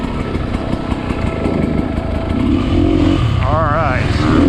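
A Sherco 300 four-stroke dirt bike engine runs with a loud, throbbing mid-pitched drone that swells as the throttle opens toward the end, with wind noise and a rider talking over it.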